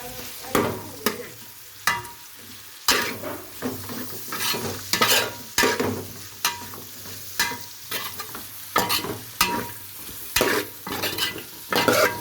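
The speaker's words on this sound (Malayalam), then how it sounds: "നമുക്ക് കുറച്ച് കറിവേപ്പില കൂടി ആഡ് ചെയ്ത് കൊടുക്കാം" Curry leaves dropped into a pan of frying chicken curry, with repeated sharp scraping clatters of a spoon stirring against the pan over a continuous sizzle, close and fairly loud, no talking.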